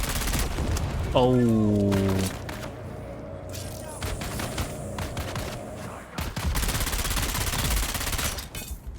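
Gunfire rattles in a Dune Awakening game session, with rapid close shots in bursts, a brief ringing tone, then more scattered shots, while a player briefly exclaims.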